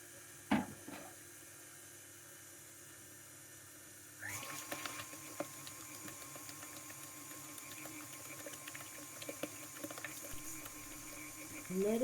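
An electric mixer churns carrot cake batter at low speed as eggs are added, starting after a few faint clicks and then running as a steady whirring hum with light rattles, close by and without talk.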